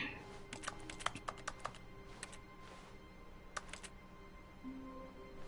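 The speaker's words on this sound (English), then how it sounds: "you hear a keyboard sound. That means you're touching something that's non-interactable" Keyboard keys click in The Stanley Parable office, scattered quick taps in irregular bursts, fairly faint and close, with a soft background hum and no talk.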